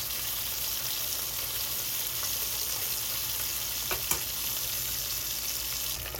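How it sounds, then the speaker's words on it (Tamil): Beef steak searing in hot oil in a pan gives a steady, close broadband sizzle throughout, with a couple of brief sharp pops near the middle. "இப்படி பிடிச்சிக்கிட்டு ஆயில் இன்க்ரீஸ் பண்ணிவிட்டு ஸ்டேக்கில் அப்படியே படுற மாதிரி வேகும்"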